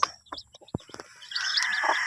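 Newly hatched Rhode Island cross chicks peep and chirp in short scattered calls, then a denser, continuous high chirping rises and fills the background.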